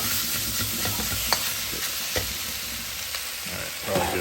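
Beef stir-frying in a hot pan for beef and broccoli, a steady loud sizzle with occasional scraping clicks as the meat is tossed, continuous and close throughout.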